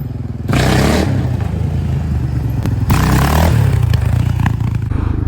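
A Yamaha Raptor 700 quad's engine growls loud and close while being ridden, revving up in two strong surges with clattering and drivetrain whine under a steady roar.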